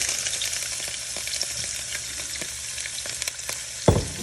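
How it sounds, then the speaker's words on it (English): Shrimp frying in olive oil in a pan for shrimp scampi, a steady broadband sizzle with scattered crackles and pops and one sharp clatter near the end, no voices. "I'm gonna go ahead and just directly add some olive oil to my pan."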